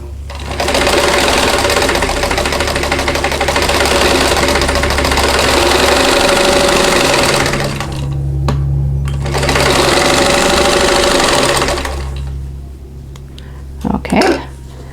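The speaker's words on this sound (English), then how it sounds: "I'm just going to sew them together." A sewing machine stitching quilt block units together for an oatmeal cookie quilt block, loud steady close whirring runs in two long stretches with a brief pause between, then handling noises.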